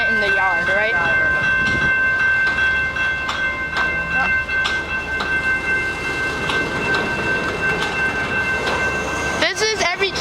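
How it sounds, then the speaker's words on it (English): Canadian Pacific freight train rolling slowly through the rail yard at Pitt Meadows, with steady rumble and metallic squeal tones, sharper clanks near the end, continuous and fairly close, with faint voices at times. "Train going so slowly."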